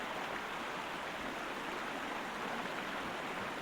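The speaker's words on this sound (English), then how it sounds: "The water is very loud." Loud, steady rushing water fills the scene in the Sherlock Holmes: Crimes & Punishments video game at the heart of an old Roman city, a dense continuous roar with no pauses.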